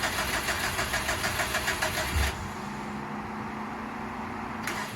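A 2004 Subaru STI with a newly installed front mount intercooler starts up, a loud cranking burst giving way to a steady rumbling idle, close and continuous with no talk.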